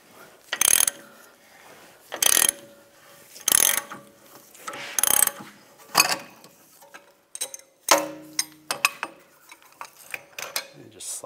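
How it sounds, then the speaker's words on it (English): A puller tool is tightened to draw out the rear wheel hub of a 2004–2010 BMW X3, with a repeated ratcheting clack every second or so, close and loud, followed by scattered metallic clicks and clanks. "As I'm tightening the tool, the hub is coming out."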